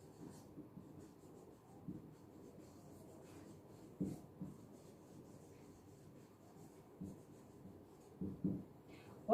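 Chalk or marker scratches faintly across a board in short strokes, soft rubbing scrapes with a few louder taps, close but quiet in a still room.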